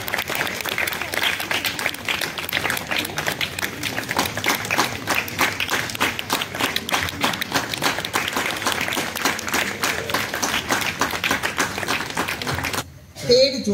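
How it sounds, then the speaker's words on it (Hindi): A church audience at a 2024 Christmas gathering in Kuluthkani, Sambalpur, breaks into sustained, even clapping that runs strongly for about thirteen seconds before cutting off abruptly near the end. "सभी कोई ताली बजाएंगे।"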